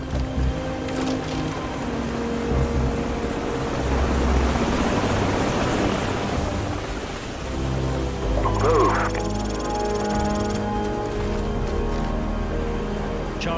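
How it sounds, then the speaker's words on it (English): Enemy helicopters in Call of Duty 4: Modern Warfare campaign on Xbox 360, a steady rotor and engine roar swelling through the middle and holding loud beneath game gunfire, alarms and radio chatter. "Enemy helicopters."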